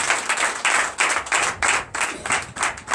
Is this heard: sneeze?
no